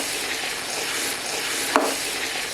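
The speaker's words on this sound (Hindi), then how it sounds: "तो अब हम इसको अच्छी तरीके से इन प्याज़ों के साथ भूनेंगे।" Meat frying with onions in a pot for nali nihari, a steady loud sizzle throughout with one brief scrape of stirring.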